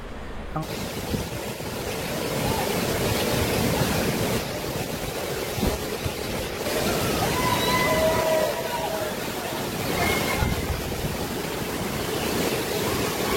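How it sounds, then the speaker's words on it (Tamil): Monsoon water rushes and flows steadily in a broad, constant wash in the Kolli Hills, with a few faint voices briefly heard over it. "முன்ன வந்த மாதிரி தாங்க தண்ணி இப்பயும் வருது."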